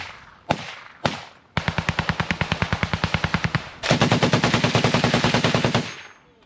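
Machine gun fire in combat: two single shots, then a rapid sustained burst, a brief pause and a second longer, heavier burst, loud and close with a ringing tail.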